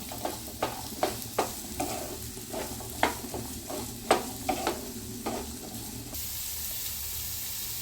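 Sliced onions sauté in a pan for a paneer sandwich filling, a steady close sizzle broken by repeated scraping and stirring strokes of a spatula at an irregular rhythm, quiet and without talk, ending in a softer hiss.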